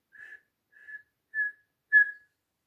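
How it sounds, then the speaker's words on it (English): A whistled call signal sounds four short, clear notes at an even pace, the last two louder and the final one held slightly longer, alone with no talk. "okay, the whistle"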